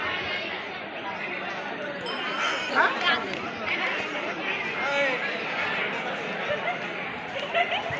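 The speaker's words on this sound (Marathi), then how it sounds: "आजूबाजूला बरीचशी गर्दी आहे" A large crowd of devotees gathers at a Kedraimata temple, filling the air with a dense, steady murmur of many voices, clearly audible chatter and occasional louder calls rising out of the din.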